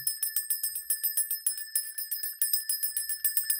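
A hand bell is shaken in a quick, steady rhythm of bright metallic rings, close and clear, sustained throughout with no talking.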